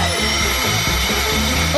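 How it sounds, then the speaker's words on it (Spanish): A vacuum cleaner runs during a chocolate kitchen challenge, giving a loud, steady motor whine and rushing hum throughout, with faint voices in the background. "Creo que nos va a ayudar una aspiradora."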